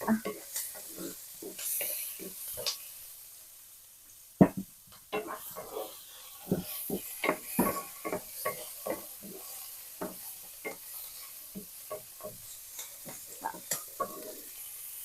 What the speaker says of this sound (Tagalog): I'll just saute it guys until the garlic will become brown.